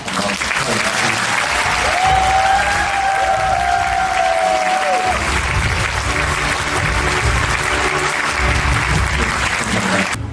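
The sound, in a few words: big applause from staff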